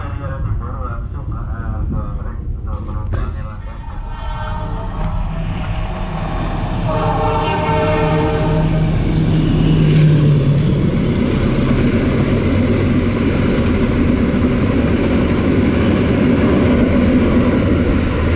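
The Airlangga passenger train pulls into Tanjung station in Brebes with loud, rumbling carriage noise. A horn-like tone rises midway and the roar swells and holds to the end, with a voice briefly audible underneath.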